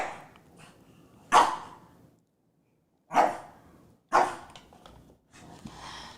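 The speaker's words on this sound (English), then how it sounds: "He's just barking at nothing." A small pet dog named Cuddles lets out four sharp barks indoors, close and loud, separated by short quiet gaps.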